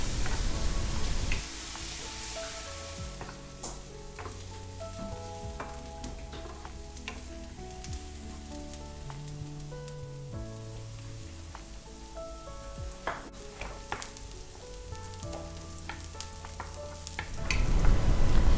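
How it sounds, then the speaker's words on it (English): Finely chopped onions frying in hot oil in a pan for a chicken and prawn curry, a soft continuous sizzle with scraping stir strokes, under a steady backing music track that swells at the end. "I've got my oil heating up on my pan, and I'm going in with my finely chopped onions"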